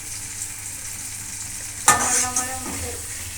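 Eggs for Telangana egg fry go into a hot pan, a sudden loud sizzle bursting up after a quiet stretch of low crackling, then settling into steady frying.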